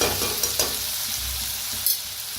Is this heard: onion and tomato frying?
yes